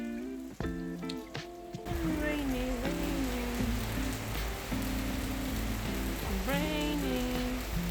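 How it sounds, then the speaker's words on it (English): Steady rain patters and hisses on surfaces nearby, with a voice and an adult talking over it. "Raining."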